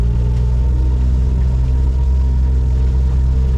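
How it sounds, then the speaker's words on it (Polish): Steady, loud engine rumble of passing cars and motor vehicles in Dumaguete, Philippines, a continuous dense drone of traffic with no talking. "ile tu jest ludzi i samochodów, ile tu jest hałasu"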